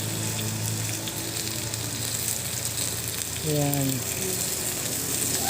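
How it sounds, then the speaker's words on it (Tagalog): Reboned chicken barbecue sizzles loudly and steadily in a kawali wok, a dense frying hiss with stirring noises, and a voice briefly speaks over it. "Gumawa tayo ng chicken barbecue in kawali."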